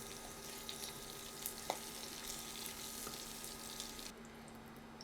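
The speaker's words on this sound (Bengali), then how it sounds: "মরিচগুলো ভাজা হয়ে গেছে আর এটা আমি এখন উঠিয়ে নেব" Dried chillies frying in a pan, a soft, steady, quiet sizzle with faint small crackles throughout, the hiss dropping away near the end.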